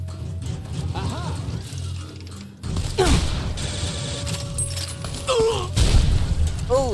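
Gunfire with armor-piercing rounds in heavily modded Fallout: New Vegas, sharp shots and mechanical clacks with booming impacts, loud and close, mixed with game sounds and brief voices.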